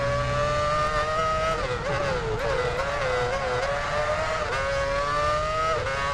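A Formula One race car engine from the game F1 Championship Edition, racing at the US Grand Prix, whines loud and steady with its pitch rising and dipping through gear changes, with no talking.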